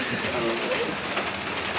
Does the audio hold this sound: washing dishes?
no